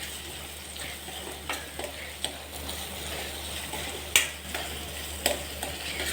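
Chopped onion sautéing with salt in a pan for a Kathiyawadi mixed vegetable dish, a steady soft sizzle with occasional light clicks and scrapes of stirring, fairly quiet throughout.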